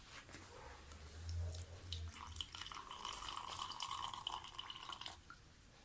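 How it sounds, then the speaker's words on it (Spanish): Water is poured into a container that already holds honey, during a school science demonstration, a soft, steady trickle and splash heard faintly for several seconds before it fades. "ponemos el agua"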